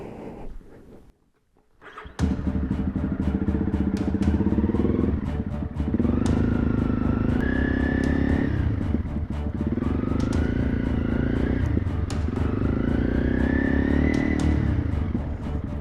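A motorcycle rides on roads in Thailand, its engine droning loud and steady throughout, with rising and falling pitch as it shifts gears, after a brief quiet start.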